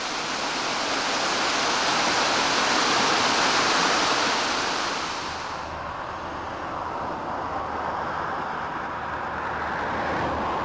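A stream tumbles down toward Loch Long, a steady broad rushing roar of falling water, close and continuous, softening slightly partway through.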